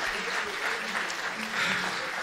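A concert audience at a centenary tribute to a musician applauds the musicians, a dense, steady wash of many hands clapping throughout, swelling slightly toward the end.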